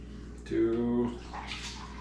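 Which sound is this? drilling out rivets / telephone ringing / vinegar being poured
vinegar being poured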